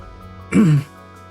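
A single short cough or throat-clear, close and fairly loud, lasting about a quarter second against quiet background hum.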